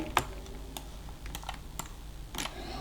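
Rapid, uneven clicks of fingers typing on a computer keyboard, close by, with a few louder keystrokes breaking up the steady patter.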